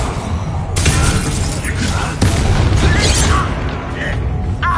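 Incendio fire spells are cast repeatedly during a Hogwarts Legacy fight, giving loud shattering bursts and booming impacts at irregular intervals amid the clamor of combat and game voices.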